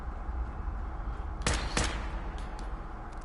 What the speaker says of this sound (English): I'm hearing gunshots from upstairs, but there ain't nothing here.